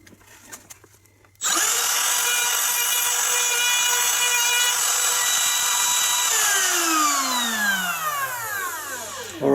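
A wood router cuts into wood after a short quiet start, spinning up abruptly into a loud, steady high whine that holds for several seconds and then shifts in pitch as the cut finishes, close and without talk.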